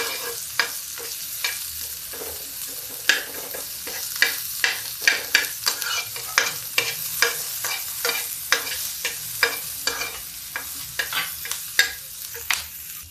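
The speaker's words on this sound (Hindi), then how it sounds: "अब इसमें हम डाल देते हैं प्याज और प्याज को कर देते हैं, प्याज को मिक्स कर देते हैं।" Onions fry in a pan for spinach saag, a low steady sizzle punctuated by frequent rhythmic spatula scrapes and taps as they are stirred, close and unaccompanied by speech.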